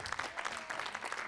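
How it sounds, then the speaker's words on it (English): A conference audience gives a panel warm, dense applause. Steady clapping fills the room from start to finish, close and continuous, with no voices standing out. "Let's give the panel a real big applause."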